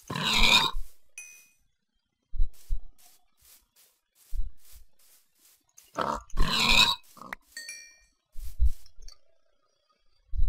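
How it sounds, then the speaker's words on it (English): Pigs in the game Minecraft grunt in short, separate bursts spaced a few seconds apart, loud and close, with sharp higher-pitched oinks between quieter low grunts. "Once I get carrots, I will be dragging these pigs back for food."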